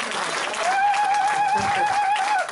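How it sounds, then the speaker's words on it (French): A church congregation applauds and cheers in praise, a steady, loud wash of clapping with a voice sustaining a raised note through it. "Donnez une acclamation au Seigneur."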